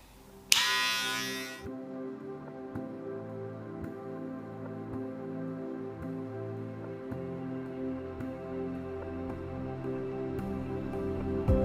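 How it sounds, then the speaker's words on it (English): Electric hair clippers buzz steadily while cutting a skin fade, a close continuous motor hum with small shifts in tone as the blade moves, after a brief loud burst at the start. "The clipper does all the work, you just guide it and control the angles."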